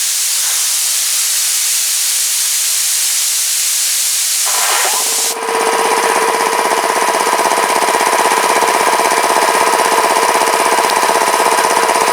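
After a long hiss, an air compressor starts up about halfway through and keeps running with a loud, steady, rapid mechanical chugging drone mixed with hiss, close by.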